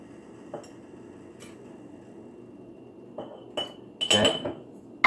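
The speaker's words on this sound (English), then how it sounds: "now I'm gonna put in 3 tablespoons of the organic apple cider vinegar" Liquid and a metal tablespoon clinking against a glass jar as organic apple cider vinegar is added, a few scattered light clinks and taps building to a cluster of sharper metallic chinks near the end, fairly close, no talking.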